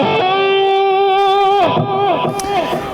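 Electric guitar played with a slide through an amp with gain boost and subtle reverb, a sustained gliding tone followed by several bending, sliding phrases, loud and close with no talking.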